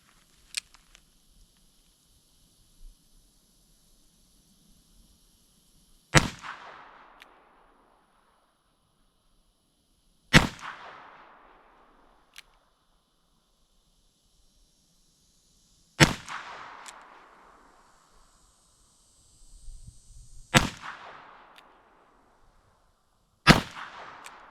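Shots from a Smith & Wesson 648-2 revolver chambered in .22 Magnum after an action job: five sharp, loud cracks spaced several seconds apart, each with a brief ringing decay, separated by near silence.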